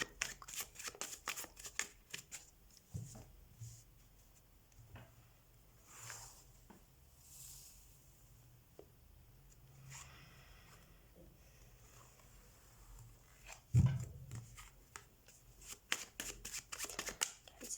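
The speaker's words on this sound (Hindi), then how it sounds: "सबसे पहले हम टैरो कार्ड शफल कर लेते हैं।" Tarot cards being shuffled by hand in a run of quick, soft riffling patters, close and fairly quiet, with a brief louder knock partway through and no talking.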